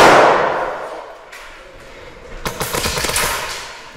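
An airsoft gun fires in a rapid burst of sharp clicking pops inside an abandoned asylum, following an earlier loud hit that trails off into quiet.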